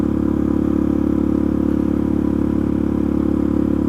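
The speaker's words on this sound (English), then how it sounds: "The manuals on this engine will have you all day long over tightening based on the volume and the sounds that these valve trains will make." A supermoto motorcycle engine fitted with a newer cam chain tensioner runs steadily with a loud, constant mechanical drone and a faint ticking valve-train clatter, close up, with no voices.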